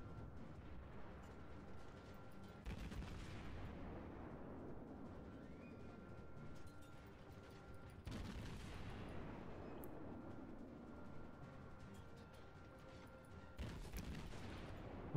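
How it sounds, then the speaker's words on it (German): Ship guns fire at the Fuso in World of Warships, heavy booming salvos landing roughly every five to six seconds, each decaying into a long rumble over constant engine and sea ambience. "Dann schießen wir jetzt mal auf die Fuso."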